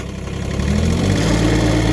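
The engine of an SK600 mini skid steer runs at a held throttle after warming up, a steady, close mechanical drone with a slight rise in level early on.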